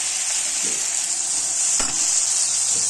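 Tomato paste with green chili and chili powder sizzling steadily in a pan while being sautéed for a vegetarian chorchori, a close, constant frying hiss broken by one sharp spoon scrape.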